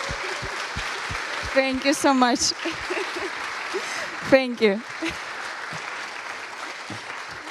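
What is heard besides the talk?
audience applause for conference organizer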